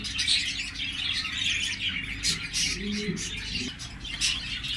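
Soft, low cooing calls from doves repeat a few times, with faint chirps and light background noise.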